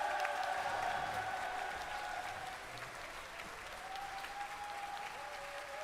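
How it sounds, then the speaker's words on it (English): Applause for an orchestra, a soft, distant wash of clapping that stays even and fairly faint from start to finish, with a steady tone sitting in the background. "Un tonnerre d'applaudissements pour l'orchestre"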